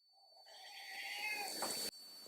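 A single cat gives one drawn-out, rising meow lasting nearly two seconds, close and clear against a quiet room.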